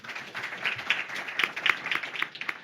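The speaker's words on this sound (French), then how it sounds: "Cette table ronde, elle se déroule également en public et vous pouvez vous applaudir." A small public audience at a round table on building renovation claps briefly, scattered individual hand claps of moderate loudness in an indoor room.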